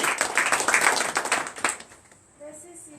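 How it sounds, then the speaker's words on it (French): A church congregation claps in acclamation during a night prayer service, with dense rhythmic clapping loud and close under voices, then fading into quieter sounds. "Donnez l'acclamation à Jésus."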